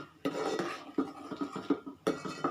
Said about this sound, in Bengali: এবার আমি অনবরত নাড়তে থাকবো